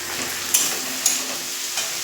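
Chopped tomatoes sizzle loudly in hot oil in a pan for a rohu fish kalia, with a steady close hiss broken by a few sharp scrapes of stirring.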